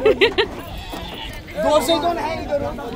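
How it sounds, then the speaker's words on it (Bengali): A goat being lifted and carried onto a vehicle at a livestock market before the Eid sacrifice gives a few short bleats early on, followed by a stretch of crowd chatter and voices around it. "এই যে ছাগল কোলে করে গাড়িতে তোলা হচ্ছে।"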